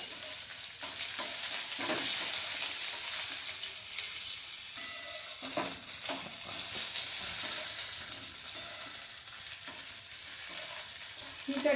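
Green tomato sautéing with sesame seeds in a hot pan, a steady bright sizzle with scattered spatula scrapes and stirring clicks throughout, no voices.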